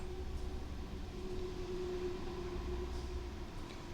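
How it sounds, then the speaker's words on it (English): Traffic drifts in through an open window as a faint, continuous low rumble, with a steady hum and soft whooshes of passing vehicles far off. No one speaks. "I apologize for any traffic."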